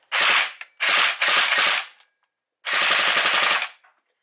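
A gel blaster fires on full auto in three rapid bursts of gel balls, each dense rattling volley close and loud, with short gaps between them and the last burst the longest.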